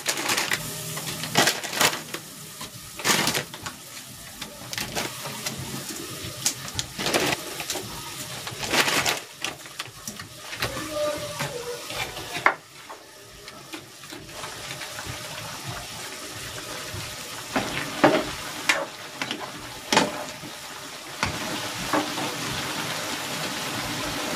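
Pancit noodles go into a pan and are tossed and stir-fried, giving irregular rustling, clattering and scraping bursts that come and go over a steady background hiss.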